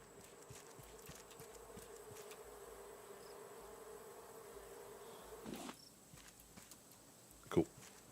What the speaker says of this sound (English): See, I hear more bees.